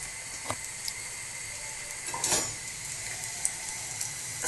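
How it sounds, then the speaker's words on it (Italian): Quiet, steady sizzling of shallot frying in oil in a pan, with a few soft clinks and stirring sounds. "Sta friggendo, lo sentite?"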